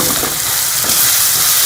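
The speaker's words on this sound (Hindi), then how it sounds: "इसमें हम लहसुन का पेस्ट भी शामिल कर लेंगे और इसको भी 1 से 2 मिनट हम इसमें फ्राई कर लेंगे प्याज के साथ।" Onions and garlic paste frying in a pan for a Punjabi chappan kaddu sabji, a steady, close, loud sizzle with soft stirring scrapes, no voices.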